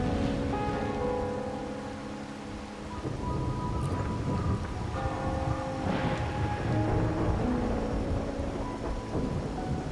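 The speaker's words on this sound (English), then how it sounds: "Raguna's rain is a bad omen. Can't argue with that now" Steady rain with rolling rumbles of thunder in the Wuthering Waves video game, dense and loud throughout, with a swell of thunder midway and faint musical tones underneath.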